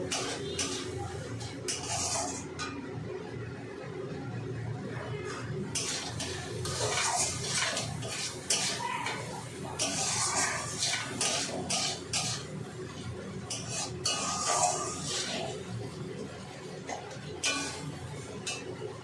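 Spiced masala being sautéed and stirred in a pan with turmeric, a steady sizzling hiss broken by scraping spoon strokes and occasional metallic clinks, close and fairly loud throughout.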